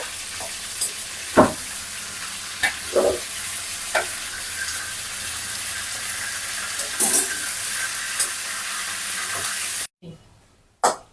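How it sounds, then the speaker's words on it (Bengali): Chicken pieces fry in a pan with a continuous hissing sizzle. Occasional sharp knocks and scrapes of a utensil break through before the sound drops out near the end. "আমার মুরগি ভাজা কিন্তু চলছে।"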